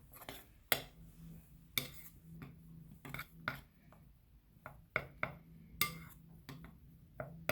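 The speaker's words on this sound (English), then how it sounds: "And now you're going to start stirring." A spoon stirs cornstarch, shaving cream and food coloring in a bowl, making irregular close clinks and scrapes against the bowl, with no one talking.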